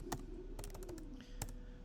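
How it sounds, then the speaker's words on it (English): Quick bursts of clicking on a computer keyboard, a few clustered key taps close by in a quiet room, irregular and short. "as my typing woes continue"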